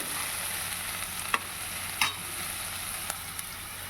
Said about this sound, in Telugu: ఎర్రగడ్డలు, పచ్చిమిరపకాయలు వేసుకొని బాగా వేపాలి